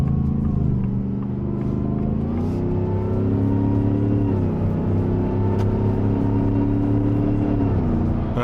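A 2024 Shelby F150 Super Snake pickup accelerates hard toward highway merging speed, its deep engine growl climbing in pitch through several gear shifts, loud and close with no talking.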